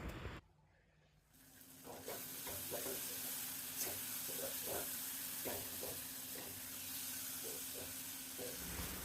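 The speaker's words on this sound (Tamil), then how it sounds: "தக்காளி இந்த அளவுக்கு வதங்கினா போதும்" Tomatoes sautéing in a pan for a green peas kurma, a continuous sizzle with repeated stirring scrapes at a steady pace, close and moderately loud.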